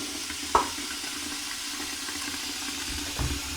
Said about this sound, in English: you can see all that water running